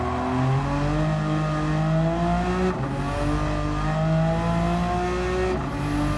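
A Porsche 911 Turbo 930 from 1981 accelerates in Gran Turismo 7 on the Nürburgring Nordschleife, its engine rising in pitch through repeated gear changes with brief dips between, loud and continuous with no voices.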